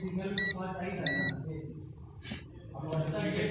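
A multimeter continuity tester on a car immobilizer module gives two short, bright electronic beeps in quick succession, with someone talking underneath and continuing afterward.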